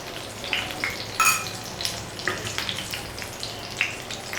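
Mutton chops fry in oil over medium heat, giving a faint, steady sizzle with scattered soft crackles and pops, heard alone.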